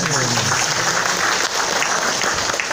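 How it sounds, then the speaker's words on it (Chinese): An indoor audience at a lecture breaks into steady, loud clapping that holds for the whole stretch as a dense, even wash, with no voices over it. "来再一点点掌声感谢。"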